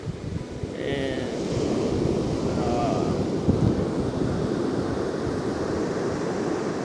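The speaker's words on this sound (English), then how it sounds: "Here comes one of the waves now." Ocean waves washing onto the shore at sunrise at a spot on the Great Ocean Road, a steady surf roar mixed with wind buffeting the microphone, with a brief voice and a few chirps early on.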